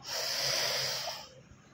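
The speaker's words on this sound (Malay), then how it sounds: "Okay, tarik nafas," A person draws in a deep breath during a breathing exercise, one loud airy inhale through the nose lasting about a second before fading to quiet.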